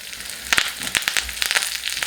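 Curry leaves, cumin and a long-cut green chili crackle and sizzle in hot ghee for a tempering on low flame, with sharp popping bursts over a steady frying hiss, loud and close.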